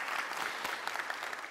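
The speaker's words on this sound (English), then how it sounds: "Can we give her a round of applause for all she does?" A church congregation at a traditional Sunday service claps together in a brief, dense burst of applause, steady and moderately loud for about a second and a half.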